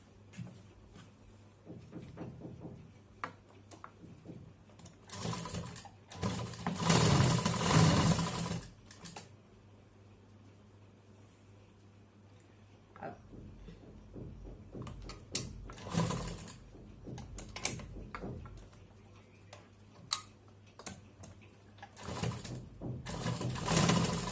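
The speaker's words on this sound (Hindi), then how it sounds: "इस तरह से लगा के यहाँ सिलाई लगाएंगे।" A sewing machine stitching a cloth face mask, running in short bursts with a louder sustained whirring stretch partway through, amid handling clicks and rustles of fabric.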